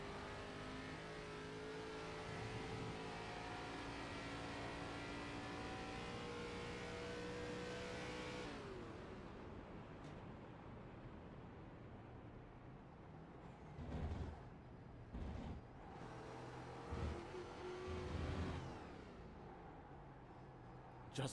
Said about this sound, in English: he has to stay on the accelerator up the hill, but going into the bus stop, we'll listen and see if he just cuts off the throttle